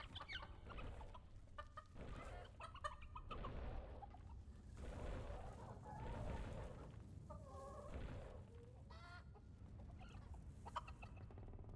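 Chickens cluck repeatedly in the video game Dungeons 4, a steady flurry of fowl calls with a few rising squawks over low background game ambience.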